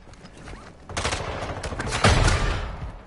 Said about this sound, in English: Oh shit, somebody's shooting at us.